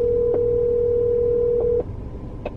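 A phone call ringing unanswered, a steady electronic ring tone held for nearly two seconds before cutting off, followed by faint background sound.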